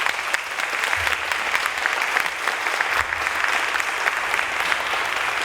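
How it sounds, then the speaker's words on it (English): Concert audience claps for a group of Key West vocalists, a broad, sustained round of applause that stays loud and even for over five seconds, with no speech on top. "how about a great round of applause for all of you?"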